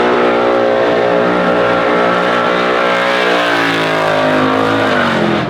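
Custom Chevy Chevelle wagon with nitrous and a 2.5-inch exhaust through a Dynamax bullet muffler, revving loud and close with an aggressive, throaty roar whose pitch climbs and dips, sustained throughout.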